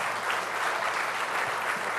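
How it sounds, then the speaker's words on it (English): Audience applause at a conclave session on sculpting the Ram statue in Ayodhya, steady and dense broadband clapping filling the whole short span at moderate loudness. "please raise a warm applause"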